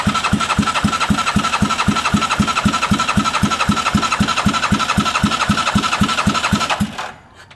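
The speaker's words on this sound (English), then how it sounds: "I got the exhaust unhooked. Let's fire it up and see if that makes a difference." A Bennche 500 UTV engine with its exhaust unhooked runs on its own, a loud, rapid, evenly spaced chuffing pulse at idle that continues steadily before cutting off abruptly near the end.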